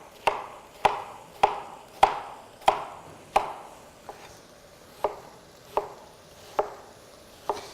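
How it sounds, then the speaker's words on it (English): A knife chopping an onion into large chunks for chili on a cutting board, about eleven crisp, evenly spaced thuds, close and clear with no talking. "So whereas before I probably made 20 or 25 swipes through the onion, here I'm going to make about 10."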